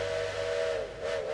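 A single sustained steam train whistle from the video game Railway Empire, a clear steady tone with a breathy hiss, dipping briefly before sounding again, fairly close and alone.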